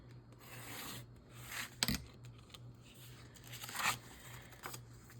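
Paper trimmed for a junk journal, with soft rubbing and rasping cuts and a couple of sharper snips, close up and quiet with no talking.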